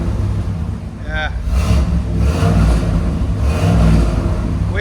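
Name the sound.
1986 Pontiac Trans Am 5.7L V8 engine revving, exhaust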